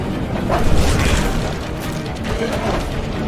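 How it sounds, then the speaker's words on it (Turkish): A train blows up in a video game with a loud, sustained rumbling boom and crashing debris that fills the whole moment, with no voices over it. "Tren bayağı patladı patlayacak ya."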